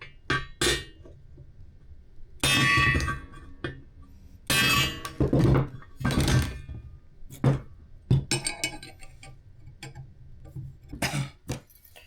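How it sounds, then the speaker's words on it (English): Metal parts for a motorcycle center stand are hammered with sharp, loud ringing blows, struck in irregular bursts and single hits, close by and without talk. "just looking for the high spot and hammering it down."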